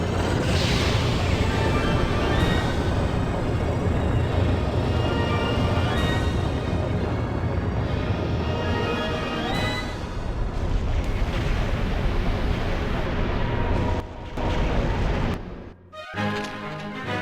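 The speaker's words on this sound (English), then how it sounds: "Stone cannon, fire!" A long, dense roar of booming stone cannon blasts and rumbling explosions in Skies of Arcadia, loud and continuous, briefly dropping out near the end before resuming.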